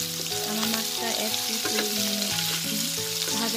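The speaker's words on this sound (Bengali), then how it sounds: "এই যে আমি এখানে মাছটা ভেজে নিচ্ছি আর কি" Catla fish frying in oil in a pan produces a strong, constant sizzle with bubbling crackles, over a melodic tune in the background.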